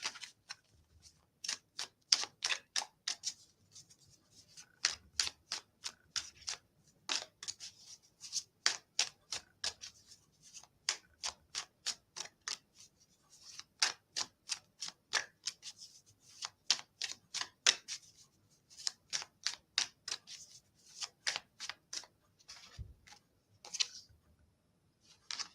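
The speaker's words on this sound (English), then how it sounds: "As I was shuffling the cards, Zanelle" Rapid, crisp riffling bursts of tarot cards being shuffled repeat in quick rhythmic runs, close and fairly quiet, with short pauses between shuffles and no talking.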